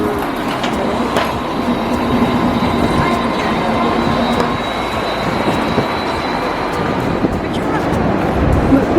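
A tram rolls along a Sydney city street with a continuous rumbling, rattling roar that stays loud for the whole stretch, while people chatter nearby.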